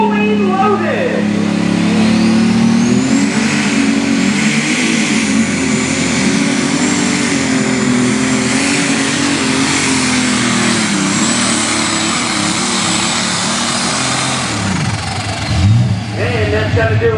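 A John Deere 8345 unlimited super stock pulling tractor roars at full power during a tractor pull, a loud sustained engine drone with shifting pitch that fades toward the end.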